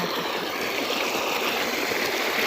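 Water flows steadily where feet are washed, a constant close hiss and gurgle of running water that fills the whole stretch with no voices over it.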